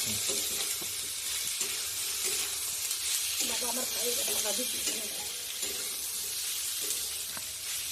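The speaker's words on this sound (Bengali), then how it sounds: "আলু পেঁয়াজ বিনস একটু নাড়াচড়া করে ভেজে নিচ্ছি" Potatoes, onions and beans sizzling steadily in a pan with salt, a continuous close frying hiss with occasional stirring scrapes.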